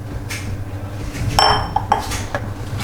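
Baking powder, salt and sugar being mixed into flour in a bowl for waffle batter, a few light clinks and taps of a utensil against the dish over quiet background.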